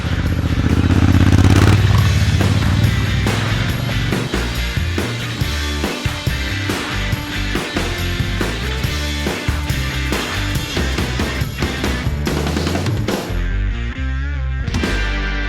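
Honda Africa Twin adventure motorcycle with DCT in gravel off-road mode, ridden on gravel trails: loud, steady engine drone with throttle changes, plus continuous clatter and crunching of stones under the tyres close by.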